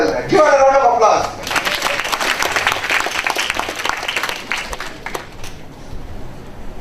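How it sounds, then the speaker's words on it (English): Applause breaks out from an audience at a university event after a brief moment of speech, a loud, dense clatter of many hands that gradually thins and fades. "Give her a round of applause."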